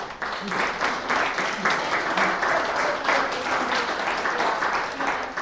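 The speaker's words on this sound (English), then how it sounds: "let's have one more round of applause for the Greensboro Public" A crowd applauds steadily throughout, a dense wash of clapping that stays even and sustained without pauses.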